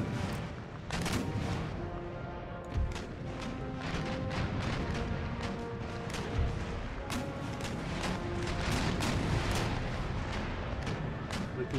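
Broadside cannon fire from sailing warships in Empire Total War, volleys aimed at a sixth-rate ship, with repeated sharp booms over a continuous dense battle roar.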